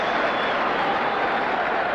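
Football crowd applauding at an FA Cup third place play-off between Arsenal and Wolves in 1973, a steady broadband wash of clapping from a large stadium audience filling the whole stretch at even loudness.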